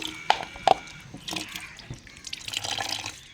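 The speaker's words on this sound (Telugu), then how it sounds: "ఇలా ఉంచేస్తే వాటర్ అంతా ఇలా వచ్చేస్తూ ఉంటాయి" Faint trickling and scattered drips as water drains from soaked black-eyed pea lentils (bobbara pappu) sitting in a perforated colander, with two sharper drops early on and a soft steady patter after.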